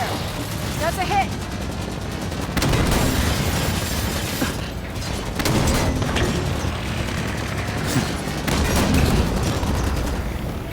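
Loud bursts of gunfire and booming explosions in the video game Halo 5: Guardians during a firefight near a frontier colony, repeated volleys crashing over a busy battle mix while voices speak.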